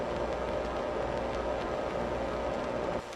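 Ambient mechanical and electrical noise with reverb forms a thick, steady, rumbling wash with a faint sustained tone inside it, quiet and continuous until it drops off just before the end.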